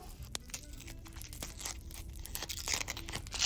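Paper surprise packet from an advent calendar being unwrapped: quiet crinkling, tearing and crunching of paper in short irregular bursts, close up and faint, with no talking.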